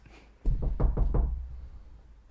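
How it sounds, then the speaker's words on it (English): Knocking on a cottage door with a raised wooden step stool: about five firm, hollow knocks in an even quick rhythm, close and fairly loud, each ringing briefly. "He raises the stool and he knocks"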